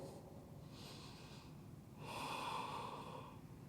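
Deep, slow breaths during a vinyasa yoga practice: a long airy inhale followed by a louder, fuller exhale through the nose, close and steady.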